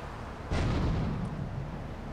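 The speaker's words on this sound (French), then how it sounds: "Alors là, c'est grenade directe." A grenade detonates in Grand Theft Auto 3, a sudden loud blast after a half-second of low background rumble, followed by a long rumbling decay, with no talking.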